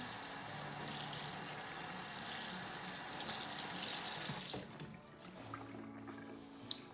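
Water runs steadily from a tap as thrifted clothing with stains is rinsed beneath it, a soft continuous splashing hiss that changes sharply near the end and turns into quieter, uneven trickles and drips.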